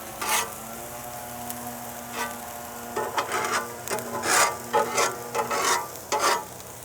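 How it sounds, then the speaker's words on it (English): Sliced onions frying in a pan for a mushroom quesadilla, cooked outdoors at a tailgate, sizzle steadily while a utensil scrapes and stirs them in repeated short bursts that grow louder and busier toward the end. "let's just go ahead and stir them around from time to time"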